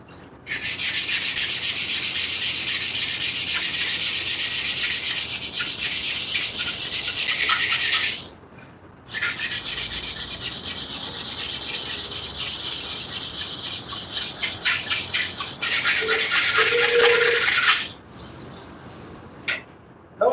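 Close, loud rasping of 100 grit sandpaper worked in long continuous passes, broken by two short pauses, with no talking over the steady scratchy hiss.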